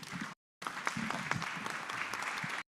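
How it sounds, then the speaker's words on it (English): Panel-discussion audience breaks into applause, a brief burst of clapping, a pause, then a fuller round of steady clapping that stops abruptly. "Once again, round of applause to our panelists here,"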